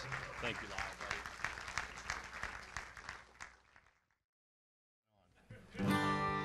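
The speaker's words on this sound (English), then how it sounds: "how about another round of applause?" Audience applause after a live band's set rolls on for about four seconds, fades to silence, then returns briefly with a voice speaking over it.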